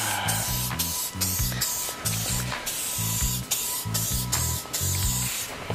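Protectant sprayed onto car plastic trim in repeated short hissing bursts from a trigger bottle, close and loud, about eight rhythmic pumps with brief pauses.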